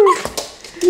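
An excited dog greets its owners coming home with close, loud, high whimpers and sharp yips in quick bursts. No one speaks.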